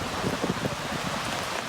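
Rain falling outdoors during a public speech, heard as a steady, even hiss of drops with no words spoken over it.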